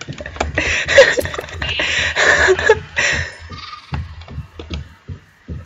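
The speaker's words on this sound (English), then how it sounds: "I need more sheep for more wool." Minecraft sheep bleat in a cluster of short, nasal calls, several overlapping near the start and then scattered single bleats among quick patters and clicks from gameplay.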